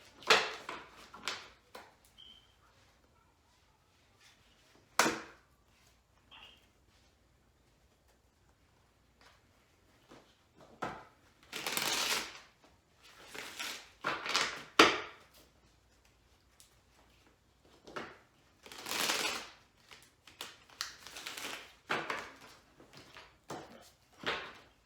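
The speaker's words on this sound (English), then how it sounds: "Shuffle these cards a little bit." A deck of tarot cards being shuffled up close in a quiet room, heard as scattered soft riffling and sliding swishes in irregular bursts with pauses between, and no talking.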